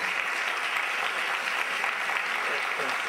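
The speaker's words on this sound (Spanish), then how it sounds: "Un fuerte aplauso para ellos." An audience applauds for two people being honored, a steady, full burst of clapping that holds evenly throughout without breaks.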